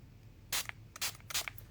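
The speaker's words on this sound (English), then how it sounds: "I'm holding card spray, by the way." Card spray is misted onto a trading card in three short, close hissing bursts, each lasting a fraction of a second, against a quiet background.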